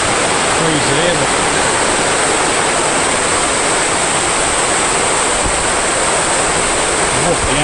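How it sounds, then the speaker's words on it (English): A creek beside Bloomfield Road near Cooktown, in rainforest, rushes with a loud, constant broadband roar of flowing water, steady throughout, with a voice faintly audible at times. "This is a creek."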